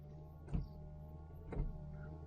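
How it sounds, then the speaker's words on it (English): Windscreen wipers on an Austin 3-Litre sweeping across a wet windscreen, two evenly spaced strokes about a second apart over a low, steady idle hum, faint and close. "And put the wipers on."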